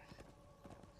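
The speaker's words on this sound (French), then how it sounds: "On va prendre notre cheval pour mieux voyager rapidement" A horse gallops in the Darksiders 2 video game: quick, faint hoofbeat clops over a steady background bed, lasting about a second.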